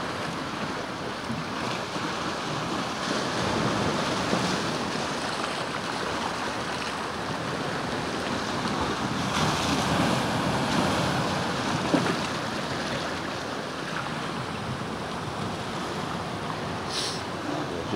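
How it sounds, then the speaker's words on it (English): Ocean waves roll onto the coast in a continuous, broad wash of surf, steady and fairly loud for the whole stretch, with no speech over it. "Just watch the last of these waves come in"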